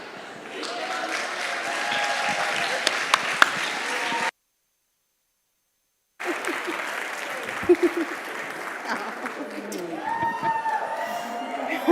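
Audience applause and cheering break out in a crowded hall at the 2024 GCLS Goldie Awards ceremony as the evening's MCs are welcomed, sustained and loud, cutting off abruptly and then resuming with scattered whoops.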